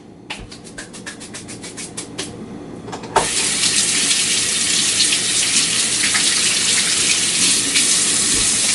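Tap water runs steadily into a sink for hand washing in a home kitchen, a bright continuous hiss after a few clicks and taps as the faucet is turned on.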